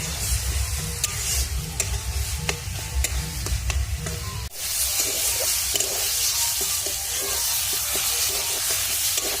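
Flat bean paste is stirred and fried in a pan with turmeric, making a steady soft sizzle with repeated scraping strokes of the spoon. The frying becomes noticeably louder and hissier partway through.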